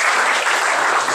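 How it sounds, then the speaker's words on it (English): Audience applause at a Sitecore UK tech user group talk in February 2013, a short burst of dense, steady clapping from a room full of people. "So, round of applause, please."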